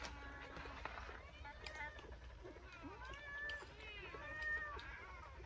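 A cat gives faint, repeated meows over steady background noise at an outdoor catch-and-cook meal, with people talking throughout.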